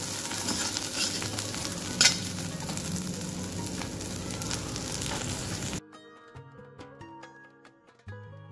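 Okra in curd stir-fries in a pan with a steady, close sizzle and stirring scrapes, then cuts off into quiet music.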